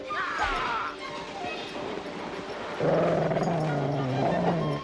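Sled dogs pull a loaded sled on an expedition, barking and yipping with a thudding knock, then a long sustained whine or howl near the end, with no clear talk.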